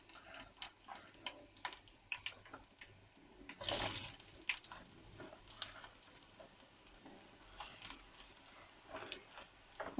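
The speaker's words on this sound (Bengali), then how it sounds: "তো তেলের সাথে আমটাকে কিছুক্ষণ নেড়ে নেব" Raw mango pieces stirred in hot oil with panch phoron and dried chilies, faint scattered scrapes and clicks of a spoon against the pan over a soft low sizzle, with one brief louder rustle partway through.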